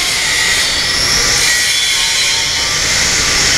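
A pecan oil press is fed slowly from its inlet hopper at low RPM, giving a loud, steady mechanical grinding hum that runs unbroken and has no talk over it.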